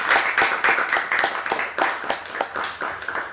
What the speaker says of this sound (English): First of all, a warm round of applause,